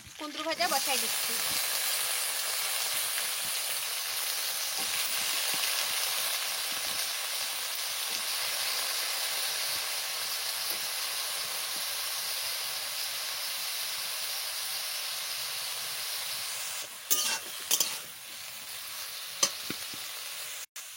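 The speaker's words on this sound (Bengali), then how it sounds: "কুন্দরু ভাজা বসাই দিচ্ছি।" Kundru (ivy gourd) frying in a pan, giving a loud, steady sizzle and hiss that runs unbroken and close, with a few clatters near the end.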